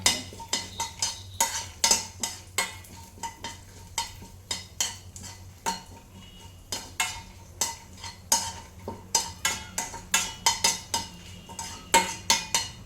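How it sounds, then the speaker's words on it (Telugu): Green and dried chillies lightly frying in a pan, where a utensil scrapes and stirs in quick, repeated strokes over a faint sizzle, close and fairly soft, with no voices. "ఇందులోనే 2 ఎండుమిర్చి వేసుకొని కొంచెం ఫ్రై కావాలి, లైట్గా ఫ్రై చేయాలి"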